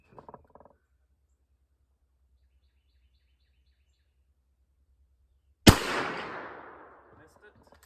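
A single loud, sharp rifle shot from a Savage Axis II in 300 Blackout, followed by a long fading outdoor echo after a quiet pause, with faint brief sounds at the start.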